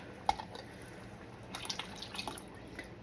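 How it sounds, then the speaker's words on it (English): About a cup of water sloshes and splashes inside an emptied 22-ounce glass marinara jar in a home kitchen, faint, with a few short liquid clicks and drips over quiet room noise. "I'm going to put about a cup of water in the jar"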